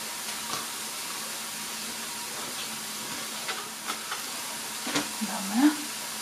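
Garlic fries gently over low heat in a pan with onion and mushrooms, a soft steady sizzle with a few light scrapes and taps from stirring.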